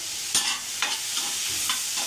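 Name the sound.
cashews sautéing in oil in a pan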